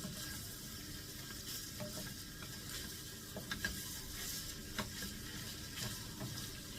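Food frying in a generous amount of oil, a steady soft sizzle with scattered small pops and crackles, fairly faint and continuous with no talk.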